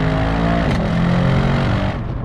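A Mercedes-AMG S63 engine revs hard toward its 7,000 RPM redline, a loud close-up drone whose pitch holds high, then dips near the end as the revs drop.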